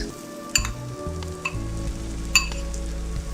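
Noodles stir-fried in oil in a pan with vegetables and egg: a loud, close, constant sizzle with brief scraping stir clatters, over a low steady hum.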